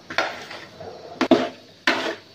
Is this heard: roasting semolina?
yes